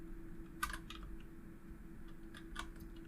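Quiet, scattered keystrokes on a computer keyboard come in two short bursts of light clicks over a low steady hum, with no one talking.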